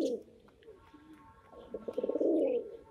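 A pair of short, medium-sized pigeons coos nearby in a low, rolling series that swells louder toward the end, with faint chirps in the background.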